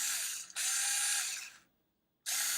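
A GoGonova cordless screwdriver's torque setting being changed gives a fast, steady close ratcheting buzz of clicks for about a second, a brief gap, then another run and a fresh burst after silence.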